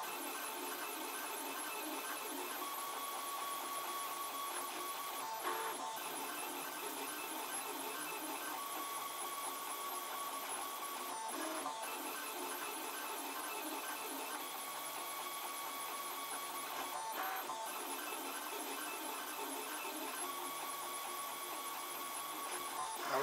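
A 3D printer prints belt drive pins at a slow 25% speed, giving a continuous whirring hum of stepper motors with tonal whines and brief periodic shifts every few seconds, steady and moderately quiet.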